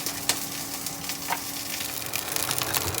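Ingredients for bakso frying in a pan, a steady close sizzle with crackling spatters and occasional stirring that holds at an even level throughout.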